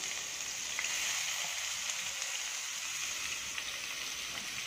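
Chopped onion sizzles in hot tempering oil for a drumstick curry, a steady, fairly loud hiss with faint crackles running the whole time, no talking.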